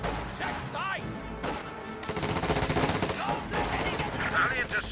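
MG34 heavy machine guns fire in a strategy game battle, rapid rattling bursts growing denser midway, mixed with voices and other combat noise.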